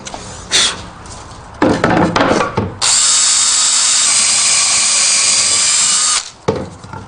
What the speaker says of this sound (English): I just want to drill a hole so that the screw will pass freely